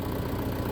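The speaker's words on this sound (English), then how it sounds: "when I go to start it, I can hear the starter rotating internally" An old off-grid machine's faulty starter motor grinds and whirs internally in a steady, dense mechanical drone with a low rumbling undertone, continuous and close with no voices.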